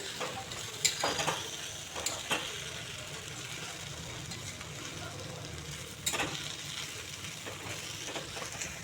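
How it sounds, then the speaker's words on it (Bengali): Mustard frying over a low flame in a pan, with a steady soft sizzle throughout and a few faint stirring scrapes and clicks, fairly quiet with no talk. "এই সরিষাটাকে একটু ভেজে নিচ্ছি"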